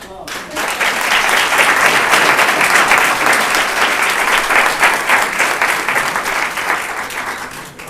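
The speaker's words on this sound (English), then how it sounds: "Give her another round of applause." Audience applause at a county board of commissioners meeting, a sustained round of clapping that swells quickly, holds steady and tapers at the end.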